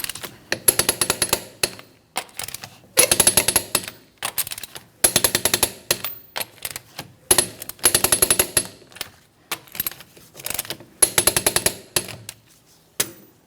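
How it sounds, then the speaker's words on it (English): A wrench torquing the lug nuts on a 2003-2007 Cadillac CTS wheel to spec, giving repeated bursts of rapid ratcheting clicks, about six clusters spread across the stretch, close and crisp with silent pauses between them. "Let's go ahead and torque these lug nuts to that 100 foot-pounds in a crisscross manner."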